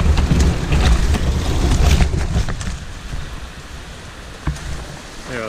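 River rapids on the Shawanaga River rush close by in dense woods, a loud continuous roar of churning water that eases a little partway through, with scattered rustles and snaps of brush.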